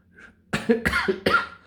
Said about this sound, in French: je tousse un petit peu